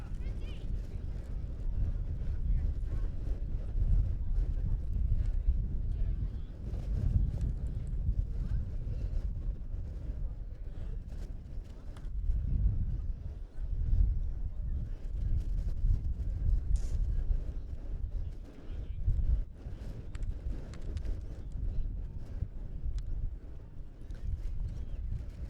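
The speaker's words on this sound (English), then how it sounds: "The wind's starting to pick up again" Wind buffets the microphone across an outdoor field at a women's ultimate frisbee championship match, a steady low rumble with gusty surges throughout while commentators talk over it.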